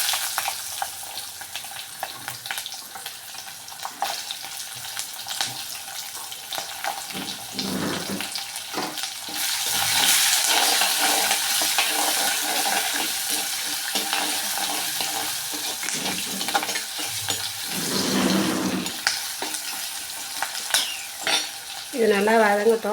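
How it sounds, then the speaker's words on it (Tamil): Peppercorns, curry leaves, shallots and garlic sautéing in oil for vatha kuzhambu, a continuous close sizzle with stirring scrapes that swells louder midway, then settles into a lighter crackle with spoon knocks. "இது நல்லா வதங்கட்டும்."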